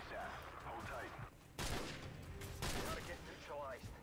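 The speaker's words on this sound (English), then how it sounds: "Oh no, I'm getting shot again." Gunfire hitting the player in the video game Call of Duty 4, with sudden loud bursts of shots breaking in between stretches of talk.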